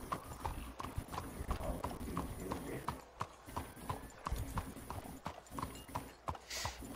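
Horse hooves clip-clop steadily in Red Dead Redemption 2 Online, a continuous run of close hoof beats with the game's ambient bed beneath.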